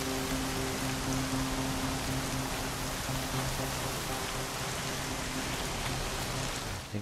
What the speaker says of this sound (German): Okay, der Regen wird leichter.